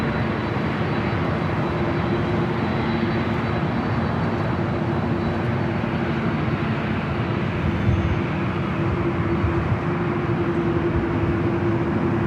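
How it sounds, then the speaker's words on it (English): A Delta Boeing 767-400ER jet airliner moving toward runway 24 left at Los Angeles airport, producing a loud, continuous broadband jet roar with a sustained low hum, steady from start to finish. "Delta 767-400ER, continuing over to 24 left."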